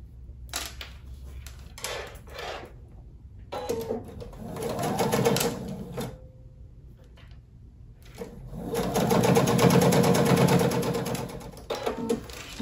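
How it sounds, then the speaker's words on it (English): Sewing machine stitching quilted clutch wallet pieces with quarter-inch seams, running in two sustained bursts with short stitching runs and pauses between, close and steady. "So I'm going to sew them this way, flip it over, and they will end up this way."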